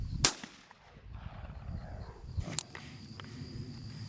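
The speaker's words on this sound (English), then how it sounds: "All right, this is gonna be a 12-gauge shotgun." A single 12-gauge shotgun blast recorded as a film sound effect: a sharp, loud crack near the start, with a second strong impulse around the middle and low rumble and outdoor noise between them.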